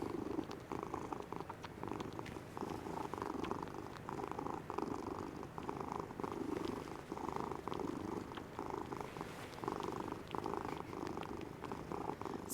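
A cat purring close up, a continuous rhythmic rumbling purr with steady breaths in and out, soft and even for over twelve seconds, with no talking.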